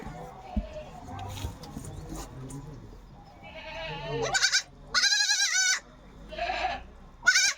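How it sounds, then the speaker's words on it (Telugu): A mother goat and her kid bleat in a farmyard, with several loud, wavering calls rising near the end after quieter murmuring and people talking nearby. "అగో వాళ్ళ అమ్మ పిలుస్తుంది మేకని."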